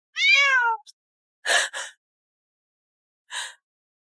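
A cat gives one clear, drawn-out meow, then a few short, breathy bursts follow after brief pauses. Nearby, with no other sounds around it.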